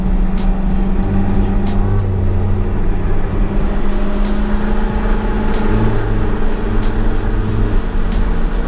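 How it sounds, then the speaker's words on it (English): Steady, loud engine drone from a C6 Corvette ZR1 racing a C7 Z06 on the road, with a continuous low rumble and road noise and no distinct passes. "Okay, me and JD's gonna race here."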